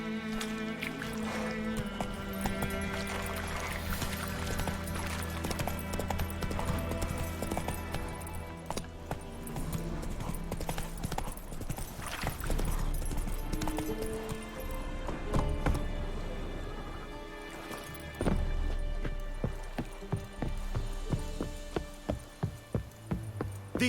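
Horse hooves clip-clop and pound along in The Witcher 3, a steady rhythmic beat of a ridden horse under the game's music and ambient sound.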